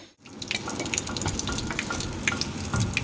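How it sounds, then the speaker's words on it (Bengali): A water tap runs steadily in a house during a housewarming puja, giving a continuous splashing flow with small drips and clinks over about three seconds, close by and moderately loud, with no one speaking. "কলটা বন্ধ করতে পারছি না,"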